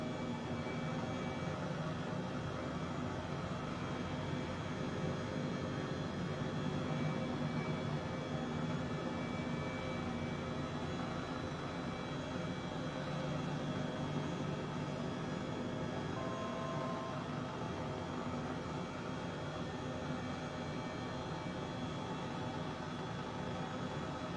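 An H135 helicopter in the Microsoft Flight Simulator game, a steady broadband rotor and turbine roar that holds even and loud throughout with no pauses and no voices.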